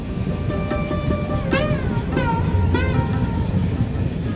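A train at Patuli station on the Howrah–Katwa railway line gives a loud, steady rumble, with a few rising tonal whines cutting through near the middle.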